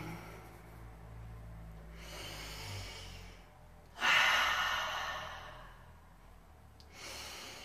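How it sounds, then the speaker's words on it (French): A person takes deep breaths, drawing slow airy inhales and releasing long exhales, close and fairly soft in a quiet room. Three drawn-out breath cycles can be heard with no talking. "Prenez 3 grandes respirations profondes."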